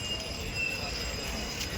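A train rumbles at Chhatrapati Shivaji Maharaj railway station in Mumbai, a steady low rolling noise with faint squeals from the wheels, while people talk nearby.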